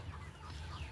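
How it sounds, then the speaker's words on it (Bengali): Hens on a poultry farm of about 2200 birds with a few roosters give a faint, steady murmur of clucking for one brief second, with no voices. "আমাদের এখানে কিন্তু 2200 মুরগির মাঝখানে 3টা মুরগ আছে"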